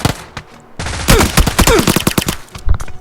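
A Thompson submachine gun fires in PUBG: New State on a phone, loud rapid automatic bursts close by, broken by brief pauses and overlapping with other weapons' shots.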